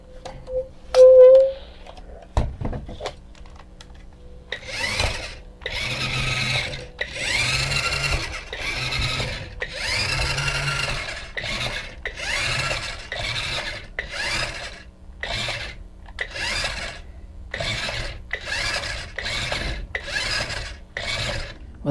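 A small toy robot motor whirs and buzzes loudly in rapid bursts, revving and stopping repeatedly as it drives in short spurts.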